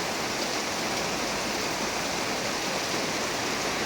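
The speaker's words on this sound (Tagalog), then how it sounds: "Lakas ng ulan." Dense, steady roar of heavy rain pouring down, a broad hiss that never lets up, with a blustery windy undertone throughout.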